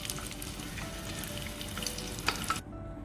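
Soya chaap kebab chunks frying in very hot oil in a pan, a dense continuous crackling sizzle heard up close, with one brief clink of the pan near the end before it cuts off.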